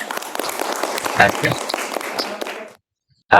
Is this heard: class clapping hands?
yes